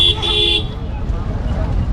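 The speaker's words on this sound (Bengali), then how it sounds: "নতুন হর্ন লাগাইছে মনে হয়।" A vehicle horn honks once near a ghat, a bright sustained tone lasting about half a second at the start, then fades into low road and ambient rumble.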